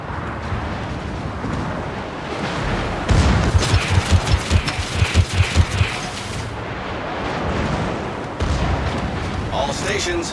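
Naval artillery in World of Warships fires in a rapid string of booming salvos, followed by rumbling impacts under a constant battle roar, with voices talking over parts of it.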